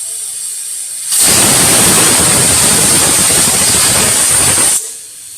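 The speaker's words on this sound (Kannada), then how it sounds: "ಈಗ ಕುಕ್ಕರ್ ಲಿಡ್ ನ ಕ್ಲೋಸ್ ಮಾಡಿ ಮತ್ತೆ 1 ವಿಷಲ್ ಬೇಯಿಸ್ಕೊಳ್ಳೋಣ" A pressure cooker holding bottle gourd dal releases steam in one loud, continuous, high-pitched hissing whistle lasting several seconds, close by, starting abruptly and cutting off sharply.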